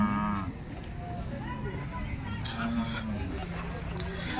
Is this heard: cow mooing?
yes